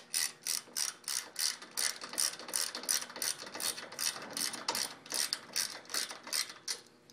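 Ratchet wrench with a 7/8 socket tightening a bolt while installing a utility cabinet, a steady series of quick metallic clicks in regular strokes, close and fairly quiet with no talking.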